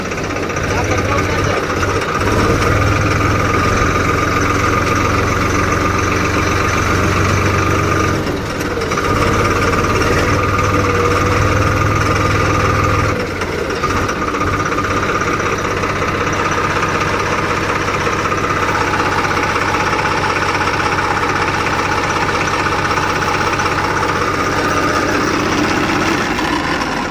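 Diesel tractor engine idling close by, a loud, steady low rumble with a throbbing knock, dipping briefly a couple of times, while voices are heard over it.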